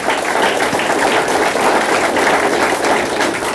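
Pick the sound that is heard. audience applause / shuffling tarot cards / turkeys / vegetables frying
audience applause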